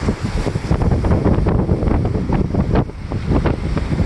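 Strong wind on a Lake Superior beach buffets the microphone with continuous rumbling gusts, with no voices heard.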